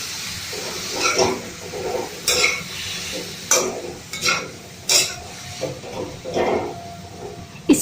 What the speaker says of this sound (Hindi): अब मैं ये लौकी डाल देती हूँ। अब मैं इसे चला देती हूँ।